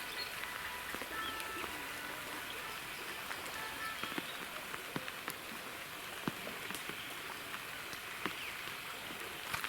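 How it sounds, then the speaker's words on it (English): Rain falling in a taiga forest on a fishing trip, a steady, soft patter with scattered sharper drops landing close by, continuous for nearly ten seconds with no voices. "Yeah, rain."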